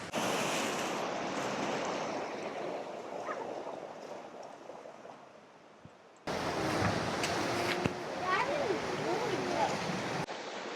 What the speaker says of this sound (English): It's a little bit windy, a little bit choppy